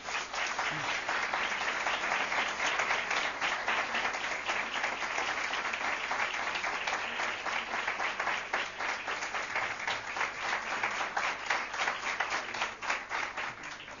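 An audience at a congregation meeting claps steadily throughout, producing a sustained, even wave of applause from many hands.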